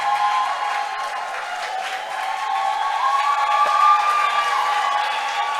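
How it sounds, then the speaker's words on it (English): A seminar audience applauding for a speaker, steady moderate clapping from a room of listeners that holds at an even level throughout with faint crowd murmur. "Please clap for him."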